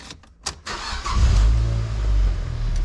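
An NC Mazda Miata with a new stage 1 clutch and lightweight flywheel starts and pulls away, a few clicks and thumps giving way to a loud, close, low engine rumble that rises and holds.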